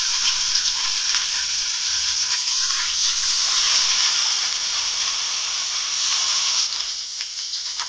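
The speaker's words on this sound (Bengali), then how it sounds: "হলুদ মেখে কড়াইতে তেল দিয়ে মাছগুলো ভেজে নেবো" Turmeric-rubbed fish frying in oil in a pan makes a continuous close sizzle and hiss that fades slightly near the end, with no talk.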